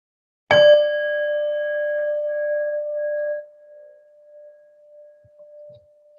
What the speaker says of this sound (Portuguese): ao soar o sino, a gente dá essa prática por encerrada